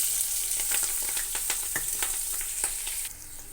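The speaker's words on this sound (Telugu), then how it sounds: "ఇప్పుడు ఈ ఆయిల్లోనే ఉల్లిపాయలు పచ్చిమిర్చి యాడ్ చేసుకోవాలి." Sliced onions and green chillies frying in hot oil for a bitter gourd curry, a dense, close sizzle with crackling pops and stirring scrapes that eases slightly toward the end, with no talk.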